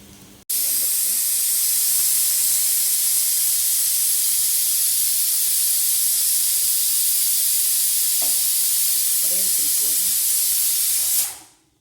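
Steady, loud hiss of steam rising from a pot of white rice cooking at home, continuous for about eleven seconds and then cutting off, with faint clinks and a few quiet voices underneath.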